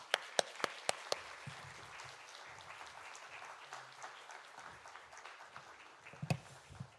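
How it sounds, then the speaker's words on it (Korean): Church congregation applauding to welcome a pastor to the stage, starting with a few sharp, close individual claps, then a soft, distant spread of clapping with murmurs, and a couple of louder claps near the end. "박수로 맞이해 주시면 감사하겠습니다"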